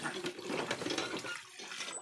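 Jamun berries being washed in water, a steady splashing and sloshing that runs for about a second and a half, close by, then trails off.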